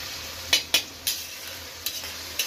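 Onions frying in a wok with salt and nigella seeds, a soft steady sizzle under several sharp metallic spatula scrapes spaced irregularly, close by and without speech.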